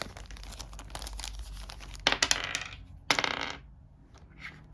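Plastic game dice from a Zombicide: Undead Alive board game box rattle and clatter as they are handled, with a few sharp knocking bursts between soft crinkling, close and fairly quiet.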